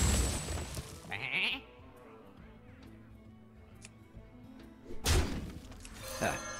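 Sheep bleating in the Hearthstone card game, a short nasal bleat near the start, then a thud and a bright shattering effect later, set over quiet game music.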